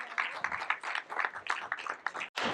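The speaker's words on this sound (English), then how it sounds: "Please, a big round of applause," Scattered applause from a small crowd at a Bitcoin whitepaper community event in Indore welcoming a guest speaker, individual claps audible in an uneven rhythm with a brief break near the end.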